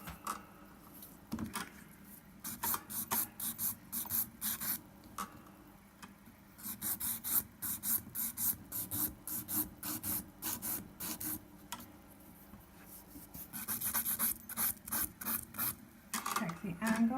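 A nail file rasps over pink and white gel nails in quick repeated strokes, bursts of rough scraping separated by short pauses, close and fairly quiet.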